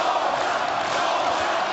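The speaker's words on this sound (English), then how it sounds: "And the crowd rallying behind their man." Boxing arena crowd at a heavyweight fight roaring and cheering behind their fighter, a dense, steady wash of many voices with no breaks.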